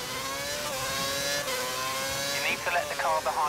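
An F1 race car engine screams at full revs in the F1 2011 video game, a loud, sustained high-pitched whine with steady harmonics, briefly shifting before a race engineer's voice talks over it.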